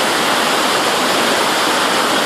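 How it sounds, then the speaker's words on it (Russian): A powerful waterfall plunges into a gorge near Piha Beach outside Auckland, New Zealand, producing a loud, steady, broadband roar of rushing water that fills the whole clip with no voices. "Поток очень мощный."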